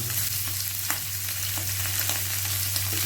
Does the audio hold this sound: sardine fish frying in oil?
yes